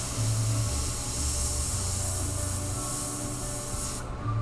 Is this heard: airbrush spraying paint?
yes